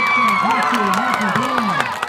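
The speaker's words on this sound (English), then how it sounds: "one round of applause for the Refugio" Crowd applause and cheering at a high school varsity football game in Refugio versus Hitchcock, with loud continuous clapping and shouting from the stands under an announcer's amplified voice.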